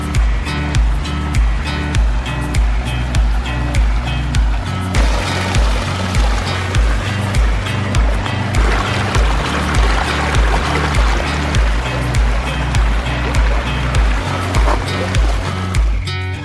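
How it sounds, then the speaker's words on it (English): Water tumbles and splashes steadily over a pondless waterfall in a small backyard in Castle Pines, Colorado. The rushing wash is loud and close, with a low rhythmic pulse running under it. "Pondless waterfall in this backyard."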